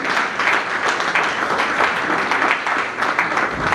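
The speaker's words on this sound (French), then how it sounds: "Sous vos applaudissements, mesdames et messieurs." Audience applause at an awards ceremony, a dense, continuous roar of clapping from a large crowd, steady and fairly loud throughout.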